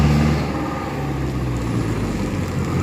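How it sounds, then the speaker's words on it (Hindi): A Tiranga Vyom electric scooter rattles steadily from broken welding on its frame, a loud continuous rumble close to the microphone with no voices. "बस वेल्डिंग खुलने की वजह से आवाज़ कर रही है गाड़ी बहुत।"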